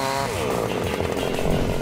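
A compact chainsaw cuts through wood, its engine pitch dropping as the chain bites in, then holding a loud, steady, rasping buzz throughout with no pauses.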